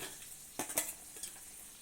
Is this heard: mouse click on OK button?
no